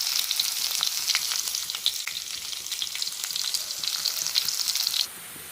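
Mustard seeds and crushed garlic fry in hot oil with a steady, close hiss and sizzle, dotted with small pops and crackles, before the sound cuts off abruptly near the end, no talk.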